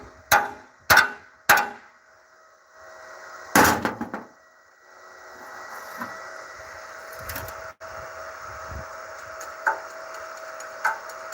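Heavy hammer blows on metal in a workshop, three sharp strikes followed by a quick cluster of ringing hits, then a quieter stretch of faint clanks and tool noise.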